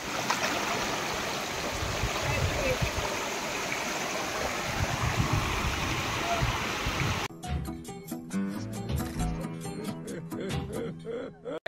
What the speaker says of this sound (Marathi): बघू शकता आम्ही धबधब्यावरशी आलो